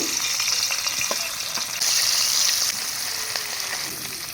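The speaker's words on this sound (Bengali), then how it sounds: "মাছ ভাজার জন্য সাদা তেল দিয়ে দিচ্ছি এখানে এবারে একে একে মাছগুলো আমি ভেজে নেব" Rohu fish pieces frying in white oil in a wok give a constant, close crackling sizzle that swells louder for a moment midway, then settles back, with a few faint utensil taps.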